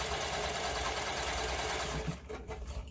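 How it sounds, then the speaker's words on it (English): A sewing machine stitching a buttonhole end back and forth on a yarn holder project, a rapid continuous mechanical whirr close up that breaks into short pulsed bursts near the end, no talking. "I'm going to sew the first end of the buttonhole. So just going to go back and forth."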